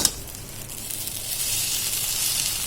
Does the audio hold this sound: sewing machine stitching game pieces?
no